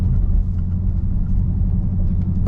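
Deep, steady engine rumble from a Dodge Challenger Hellcat Redeye Super Stock idling or creeping in drive, loud and close, with no talk over it.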